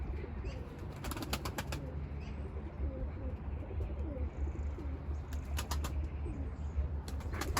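Arab tumbler pigeons coo softly in a loft, with low repeated calls over steady background noise and a few brief flutters of wings.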